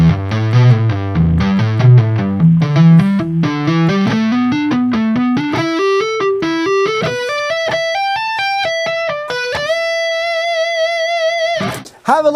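A distorted electric guitar plays a slow legato pentatonic lick, climbing step by step in smooth, connected notes. It ends on a sustained high note, loud and alone.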